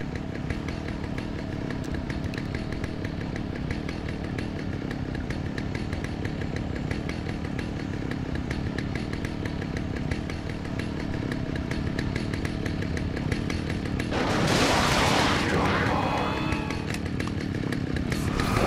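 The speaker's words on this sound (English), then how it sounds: "Is it a chainsaw?" A chainsaw from the video game Alan Wake runs as a steady, loud motor drone throughout, with a harsher burst of revving near the end.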